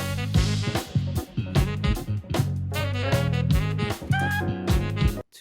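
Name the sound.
jazz fusion music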